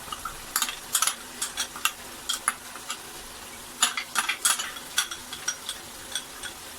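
A spoon scrapes and clinks through chicken coated in yogurt-onion paste in a pan for white korma, giving irregular sharp taps and scrapes over a soft, low sizzle, close and fairly quiet.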